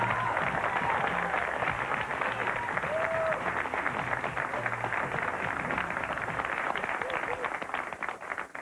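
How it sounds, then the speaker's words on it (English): A studio audience at a 1995 daytime talk show breaks into steady, dense applause that fills the whole stretch, with cheers and whoops rising over the clapping as a guest is brought out on stage. "Give her a round of applause."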